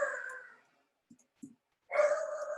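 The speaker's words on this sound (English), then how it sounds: "Sorry about my dog." A pet dog barks close by in a home, with two short bursts of barking separated by a pause holding a couple of faint clicks.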